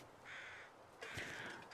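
Crows caw in The Long Dark video game, two or three harsh calls at moderate distance, the second burst louder, over a quiet wintry ambience.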